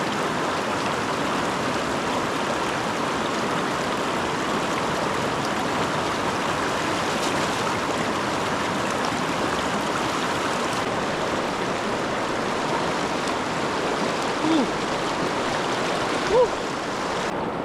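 Water of the Agos River in Infanta flows steadily in a continuous broadband rush, even and unbroken throughout, heard close by with only a couple of faint small knocks near the end.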